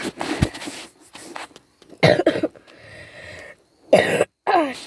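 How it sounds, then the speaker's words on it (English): Several harsh coughs in bursts, loud and close, separated by brief pauses and a stretch of quieter background noise. "pardon me, because sorry for coughing"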